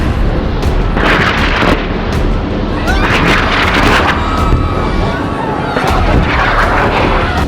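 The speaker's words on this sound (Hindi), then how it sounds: "लेकिन फिर अचानक एक जोर का धमाका होता है।" A loud explosion effect bursts through an aircraft cabin, with repeated heavy booms and crackling blasts over a dense, roaring wind-like rush that stays loud throughout.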